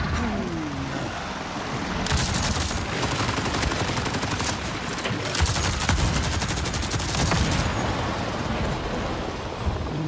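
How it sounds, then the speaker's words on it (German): Rapid bursts of automatic gunfire shooting at helicopters in Avatar: Frontiers of Pandora rattle over a dense rumbling background, continuing for several seconds with brief gaps. "Wir knallen erstmal die Hubschrauber ab hier."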